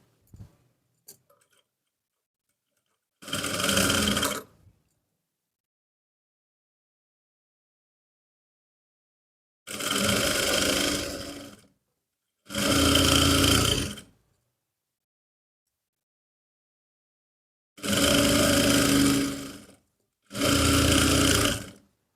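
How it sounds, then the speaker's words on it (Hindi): An electric sewing machine stitches trouser legs together in five separate bursts, each a steady whirring run of one to two seconds, with silent pauses between them and a couple of faint clicks at the start. "एक पैर के गैप से हम यहाँ पे सिलाई लगाएंगे"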